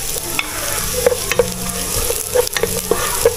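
Garlic browning in hot oil for biringhi, with onions added and stirred in, gives a steady close sizzle broken by repeated spatula scrapes and clacks against the pan, with no talking.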